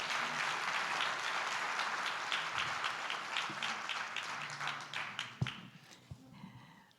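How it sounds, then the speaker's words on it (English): Steady applause from an audience at a democracy summit as Sharon Davies comes up, dense clapping that thins toward the end into a few louder individual claps. "Let's clap it up"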